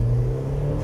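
A turbocharged Mk1 Mazda MX-5 with its 1.8 engine gives a brief, steady, close engine drone with a strong low hum, heard alone.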